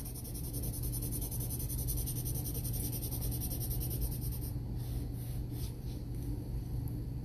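Steady scratchy rubbing of a crayon or marker coloring a paper check, continuous and fairly close throughout with no talking, set against a constant low hum.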